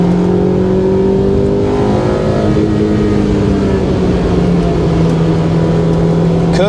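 A Honda Civic EK9 driven hard along the Tsubaki Line mountain road, its engine a loud, continuous drone that drops in pitch, then settles and holds steady, with road and wind roar throughout.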